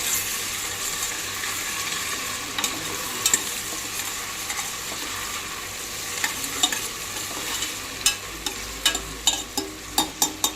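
Ginger garlic paste sizzles steadily in hot ghee while being fried for a spicy Andhra country chicken biryani, with a constant crackling hiss broken by the clinks and scrapes of a spoon stirring the pan.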